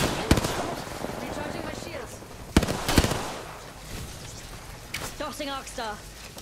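Sharp gunshots crack out in a multiplayer shooter video game, two loud isolated reports among scattered firing and game noise, while players talk excitedly over the action.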